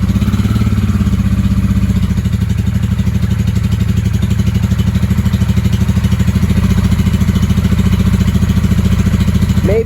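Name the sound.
1995 Honda Shadow VLX 600 motorcycle engine running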